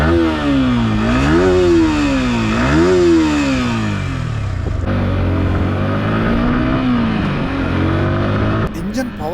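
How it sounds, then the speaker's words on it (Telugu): A 2025 Yamaha R15 M motorcycle is ridden hard at high RPM, its engine note climbing in repeated rising revs through the gears, loud and close, with a steadier drone in between. "ఇప్పుడు నేను మంచి RPMలో వెహికల్ని రైడ్ చేస్తాను."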